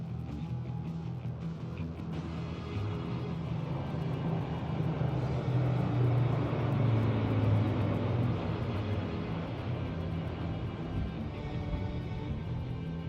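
Indian Air Force aircraft, including C-295 transports, flying past over Kartavya Path at the Republic Day parade, a steady low engine rumble that swells and fades in the distance.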